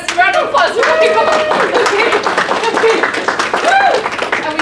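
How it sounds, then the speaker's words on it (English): Applause and clapping from a panel audience, dense and steady throughout, mixed with cheering voices and talk layered over it. "Yes, round of applause."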